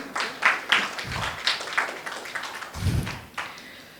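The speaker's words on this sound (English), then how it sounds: "Round of applause for Vincent." An audience at a Toastmasters club inauguration ceremony applauding, with uneven, moderately loud clapping and a few heavier thumps, no speech over it.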